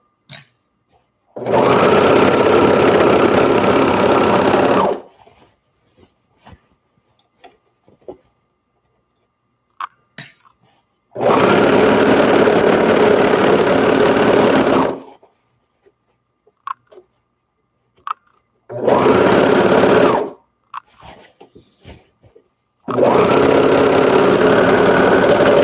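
Sewing machine stitching kids' board shorts: four loud, steady whirring runs of several seconds each, close up, separated by quiet pauses with small handling clicks.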